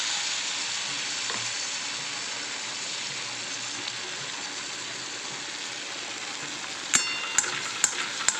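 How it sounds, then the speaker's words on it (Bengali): Palm fruit poa pitha frying in oil in a wok, a Bengali-style Janmashtami sweet, gives a steady close sizzle throughout, with a few sharp clicks near the end. "এভাবে করে ভেজে নেব আমি একটা একটা করে"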